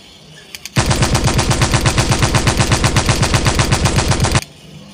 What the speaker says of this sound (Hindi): ये देखो अब गन चलाएगा।